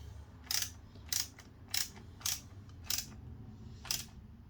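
Screws being tightened into a brushless motor mount on an HPI Savage X RC truck, heard as six short, evenly spaced crisp clicks against a low steady hum, with no talking.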